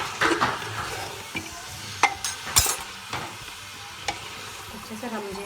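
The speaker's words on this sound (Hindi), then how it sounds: "अब हम इसको थोड़ी देर तक इसको ऐसे भूनेंगे।" Vegetables for veg pulao being stir-fried in a pan, with a steady sizzle broken by sharp scraping clicks of a spatula, close and clear.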